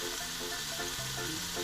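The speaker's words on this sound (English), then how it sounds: "rosemary is great when you add it while frying your stuff." Rosemary fries in a pan with pasta, beef and feta, making a steady, loud sizzling hiss that fills the whole stretch. Faint melodic tones sit underneath.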